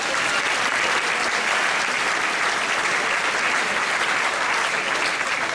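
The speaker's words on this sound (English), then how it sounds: "Give them a round of applause." A large crowd at an invention convention in a Toronto convention centre hall claps continuously, a dense, even roar of hands that holds steady at full strength without letting up.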